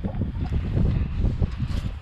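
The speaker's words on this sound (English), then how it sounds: "Sorry about the wind, but apparently there's another storm coming." Low, blustery wind from an approaching storm buffeting a microphone outdoors, a continuous rumbling roar with gusty swells throughout.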